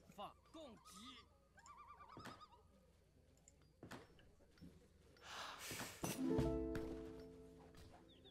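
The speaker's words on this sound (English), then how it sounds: "Alright, the goats are here." Goats bleat repeatedly in the strategy video game Age of Empires III, wavering cries scattered among game effects and clicks, building to a louder cluster of sounds near the end.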